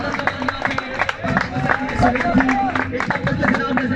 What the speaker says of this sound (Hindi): एक दफा जोरदार ताली दीजिए सुहेल अयूब के लिए जरा